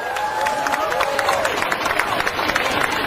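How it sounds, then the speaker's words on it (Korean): A crowd claps and cheers continuously at a political rally, dense applause with voices mixed in, sounding like a large gathering outdoors. "신해철 씨를 박수로 맞아주십시오"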